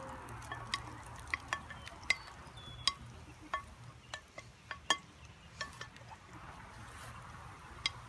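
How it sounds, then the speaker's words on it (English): Oil, peppers and onions saute in a Dutch oven over a campfire, a soft sizzle beneath scattered crisp metallic taps and clinks of a utensil, fairly quiet, with a low outdoor rumble underneath. "I'm going to let that start to saute a little bit."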